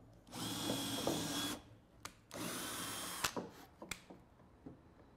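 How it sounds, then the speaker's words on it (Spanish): A power drill bores a pilot hole in wood for a screw at a carpentry bench, with two loud, close bursts of high whining drilling separated by short pauses and followed by a few sharp clicks. "Es guiar. ¿Qué es guiar? Es encaminar, hacer un pequeño orificio para no batallar con el tornillo."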